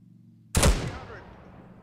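A single artillery round fires in Arma 3, a sudden loud boom with a sharp attack and a decaying rumbling tail, following a quiet low hum.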